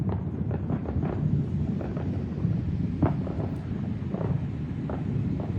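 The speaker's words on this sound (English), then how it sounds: "That rumbling is the sound of freedom here in America, the sound of fireworks." Fireworks going off far away on a night in America in 2024, heard as a steady low rumble with scattered soft thuds and pops rolling underneath, distant and muffled, with no voices.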